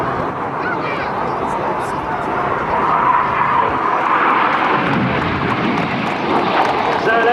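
Red Arrows jets flying an aerobatic display at an air show, a steady loud roar of jet engines with a swelling rush midway, along with a voice over the noise.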